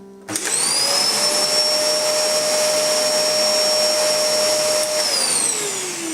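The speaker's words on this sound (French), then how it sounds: "quand on le met en marche, donc il est assez bruyant comme tous les aspirateurs sans sac" A VAX C85-AM-B-E bagless vacuum cleaner starts up and runs with a loud, steady high-pitched whine and rushing air, close by and continuous.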